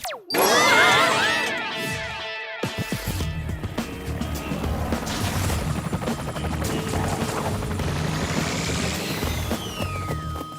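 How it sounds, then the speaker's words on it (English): A helicopter flies in a cartoon spy mission scene, its engine a steady loud drone lasting several seconds after a brief burst of other effects at the start, with no voices over it. "I'll send the chopper."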